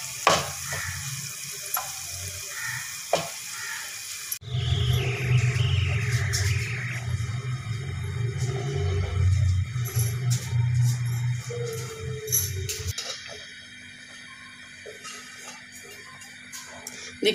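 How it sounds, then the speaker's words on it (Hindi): Green chilies frying in a hot tempering for moong dal, a steady sizzling hiss with a louder, busier stretch in the middle that eases off toward the end, close up with no talk. "हरी मिर्चें जो हैं ये मैं ज़्यादा फ्राई नहीं करूँगी"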